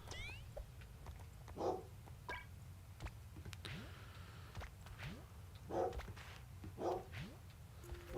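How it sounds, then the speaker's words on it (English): A pet dog barks somewhere in the room in a few short bursts, fairly faint and spread irregularly over a quiet, noisy background. "Can hear my dog barking"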